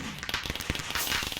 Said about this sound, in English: My fireworks have escaped that direction and just murdered something.